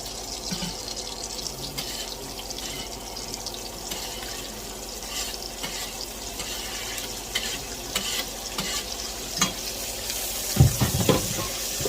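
Onion hits a hot pan and sautés with a continuous hissing sizzle, broken by occasional scrapes and clatters. A louder clunk of cookware comes near the end, and no one talks.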